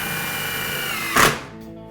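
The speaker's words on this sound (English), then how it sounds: "And you could screw right through the form." Power drill driving a screw through a concrete countertop form, a steady whirring motor for about a second before a short loud thunk as the screw seats, then quiet fading.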